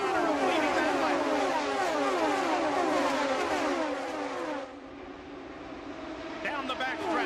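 IndyCar race cars of the 2002 Chevy 500 roar past on the 1.5-mile Texas Motor Speedway oval, a dense, sustained engine howl with layered pitch sweeps that drops off partway through, under a commentator's continuous talk.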